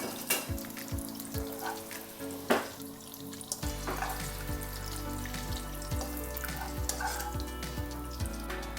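Vegetables sauté in hot cooking oil in a pan for kaldereta, with a steady close sizzle and frying crackle, interrupted by a few sharp clinks and stirring scrapes.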